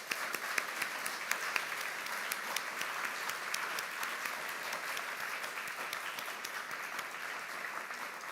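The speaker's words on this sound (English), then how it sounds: "So let's have one final round of applause." After a chemistry inaugural lecture, a large audience gives one final round of applause, a dense, even wash of clapping heard from a distance that holds steady with no voices over it.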